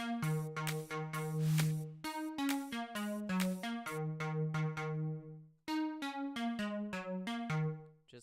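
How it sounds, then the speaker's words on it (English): Pluck synth melody in an electronic track's build-up, played without side-chain ducking: steady, sustained bright notes in a quick rhythmic pattern over a bass line an octave lower, loud and continuous with no pumping. "when we get into the build-up, I'm using a pluck synth"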